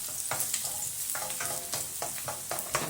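Garlic frying in hot oil for adobong sitaw, a steady crackling sizzle broken by a series of short scraping stirs from a utensil in the pan, close and moderately loud, with no talking.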